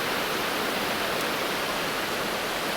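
Waterfall at Castel San Vincenzo in Molise, heard as a steady, dense roar of rushing water that holds evenly throughout with no voices.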